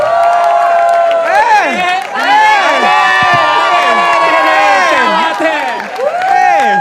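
A live comedy-show crowd cheers, whoops and whistles loudly for the night's final act, a dense, sustained roar with rising and falling shouts throughout.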